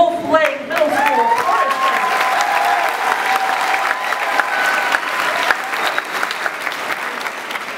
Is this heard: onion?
no